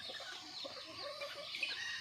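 Backyard chickens, including a yellow-necked hen, cluck softly in short irregular calls against a faint outdoor background, moderately close, with no talking.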